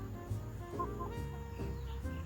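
Neighbor's chickens in a rural Chinese village cluck softly and continuously nearby, a low murmuring of fowl with no talk over it.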